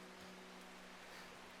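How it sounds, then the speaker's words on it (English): Rain from the video game Strange Horticulture, a soft steady hiss of falling rain with a faint low tonal hum underneath, even and unbroken. "I love the sound of the rain in this game"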